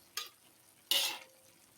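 Anchovy and tempeh being stirred in a pan with green chilies, two separate scraping swishes with a spoon or spatula, the second longer, over a very faint sizzle.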